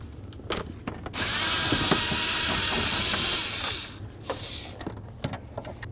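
A power tool works on bolts in the steering column of a 1994-2004 Chevy S-10 pickup, one steady whirring burst of about three seconds between quieter clicks and handling noises.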